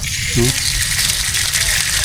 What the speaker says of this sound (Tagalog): Gabig buhos sa ulan. Kusog yung tubig